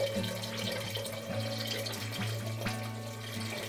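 Water trickles and splashes faintly as it is poured into a test cylinder holding an alcoholmeter, under a steady tonal hum in the background.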